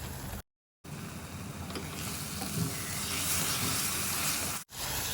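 Masala with ginger garlic paste, cooked for a chicken gravy, sizzles and fries steadily in a pan with a dense, continuous hiss and faint stirring scrapes, heard up close, with two brief dropouts.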